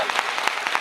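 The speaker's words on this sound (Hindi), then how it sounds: "जोरदार तालियां" Applause at a church gathering for a baptism service, a dense, steady patter of many hands clapping with scattered sharper claps standing out, fairly close and filling the brief moment.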